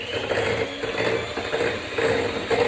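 An electric whisk whirs and rattles steadily as it mixes a liquid vanilla custard base for ice cream, a close mechanical buzz with small pulsing variations and no voices.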